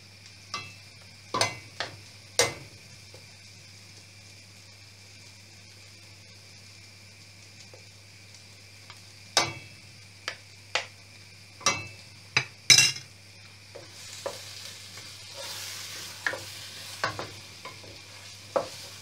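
A utensil stirs ingredients frying in a pan for Indonesian kebuli rice chicken, giving scattered sharp metallic clinks and scrapes over a low steady sizzle and hum.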